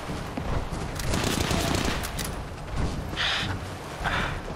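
Rapid gunfire from a companion's weapon in the video game Fallout 4, a dense, loud burst of shots running almost continuously, with brief hissing flares later on.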